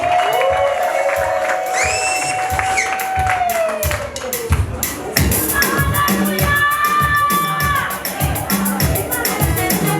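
A church choir congregation cheers and claps along with music, rhythmic hand claps and crowd whoops running steadily under a singing voice and instruments, loud and close.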